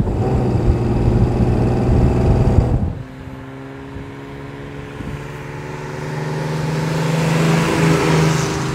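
A 1935 Frazer Nash BMW 315 Sport, a small vintage sports car, driving with a loud, steady engine drone that shifts pitch through gear changes around three seconds in, then builds again as it accelerates.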